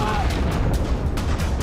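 Explosions strike a Russian weapons supply site in Crimea, heard as a dense, continuous rumble of booming blasts and crackling bursts with no break across the short stretch.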